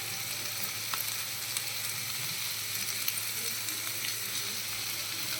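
Whole garam masala spices crackle and sizzle in hot oil in a pan, a steady close frying hiss with occasional small pops and no voices.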